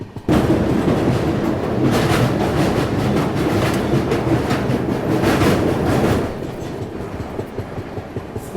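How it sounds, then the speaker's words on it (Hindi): The Dehradun Express passes Jwalapur railway station, its wheels giving loud, continuous clickety-clack rumble close by that eases slightly toward the end. "और ये ज्वालापुर रेलवे स्टेशन क्रॉस कर रहे हैं"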